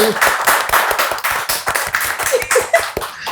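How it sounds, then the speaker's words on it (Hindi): Loud, close applause from a talk show audience, a dense burst of many hands with distinct sharp claps throughout, briefly mixed with a voice or cheer. "ज़ोरदार तालियां हो जाए"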